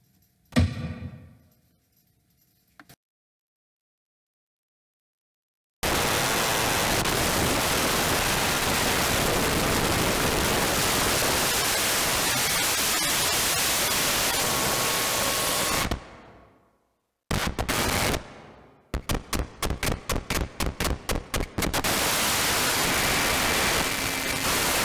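Harsh static noise from a PATCH modular synth patch roars as a loud, dense hiss for about ten seconds, cuts off abruptly, then returns in choppy, rapidly gated bursts, with quieter fragments before it.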